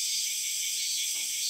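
Steady forest ambience in the Battle Cats mobile game, a dense, constant high insect chirring like crickets, even and unbroken with no talk.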